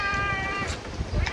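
A cat meows with a drawn-out tonal cry that starts at once, under faint background clatter at a home lunch of pork sinigang. Softer meows follow near the end.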